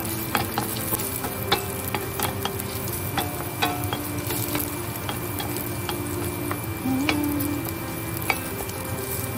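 Green beans brown in a hot pan with garlic, salt and pepper, crackling in a steady sizzle while a utensil clicks and scrapes at intervals, with a low hum running underneath.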